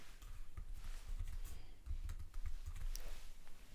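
Typing on a computer keyboard while entering an Excel formula, a steady run of soft, close key clicks with irregular rhythm and no voice over it.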